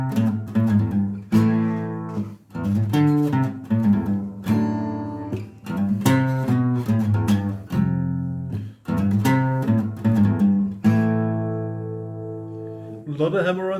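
A riff played on acoustic guitar with many hammer-ons and pull-offs, bright plucked notes and ringing chords in close, uneven bursts that end on a sustained, fading note.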